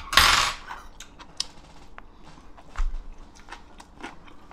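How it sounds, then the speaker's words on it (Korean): Homemade kkodeulppaegi kimchi is eaten up close: a sharp crunchy bite at the start, then soft intermittent chewing with faint clicks and utensil taps in a quiet room. "이거 꼬들빼기도 먹어볼까?"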